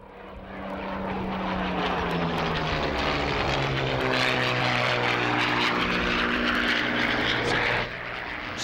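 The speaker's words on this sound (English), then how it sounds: "Soak up the sound of those Merlin engines." Spitfire and Hurricane fighters with Merlin piston engines fly past at an air fair, a deep propeller drone swelling to a loud roar with sliding pitch as they pass, then easing slightly.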